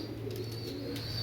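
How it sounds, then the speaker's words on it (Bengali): A pair of imported-bloodline royal Pakistani pigeons coo softly over a steady low hum and background noise, with no talking. "ভিউয়ার্স এক জোড়া দেখেন ইনপুট ব্লাড লাইনের রয়্যাল কবুতর ভাই"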